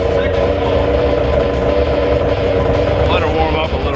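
An old snowmobile revived after sitting more than seven years runs at a steady, buzzing warm-up idle, loud and close, with a slight rev near the end.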